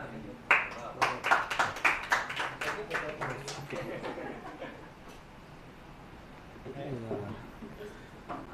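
Audience at an Urdu poetry mushaira in Lahore claps briefly, a burst of close sharp handclaps that thins out within a few seconds, followed by a voice speaking.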